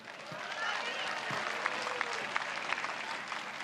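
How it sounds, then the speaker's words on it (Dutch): A concert-hall audience gives a warm welcome to a performer at a live season-opening event, steady dense applause with a few sharper claps standing out and faint voices underneath. "Laten we haar alsjeblieft verwelkomen met een warm applaus"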